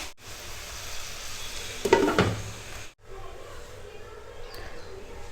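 Tomatoes cook in a covered pan on low heat with a soft, steady sizzle and a brief clatter from the pan or lid partway through.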